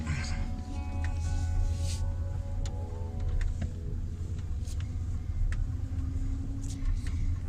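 A truck drives slowly around the block after pipe repair work, its engine a steady low rumble heard from inside the cab, with a few clicks and rattles over it.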